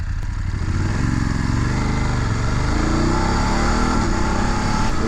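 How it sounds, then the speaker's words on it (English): A BMW F850GSA adventure motorcycle from 2019 runs steadily through city traffic, its engine a loud, continuous droning roar with rising and falling pitch as it revs, heard up close with no talking. "Oh, it's got a lovely little roar. Sounds like a blooming muscle car."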